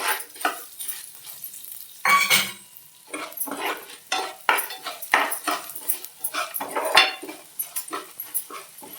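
Coriander seeds dry roasting in a pan over a low flame, with repeated stirring scrapes, light crackles and clinks of a utensil against the metal, close and fairly loud, with no talking.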